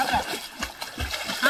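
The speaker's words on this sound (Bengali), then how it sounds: "ভালো করে ধরে দারুণ সাঁতার কাটছে।" Water splashes and sloshes as Raisa swims in a pond, repeated soft splashes under nearby talking voices.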